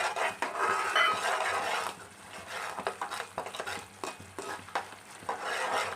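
Chicken masala of tomato puree and yogurt frying in a pan while being stirred: a close sizzle under repeated scraping and knocking of the utensil in uneven strokes, with no talk.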